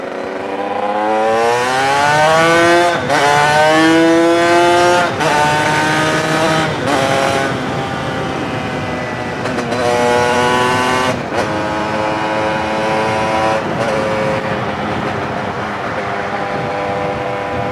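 A two-stroke TNT 135 motorcycle engine pulls hard in sixth gear at around 55 mph, its loud buzzing note rising steadily through repeated climbs with brief dips between them, with no voices.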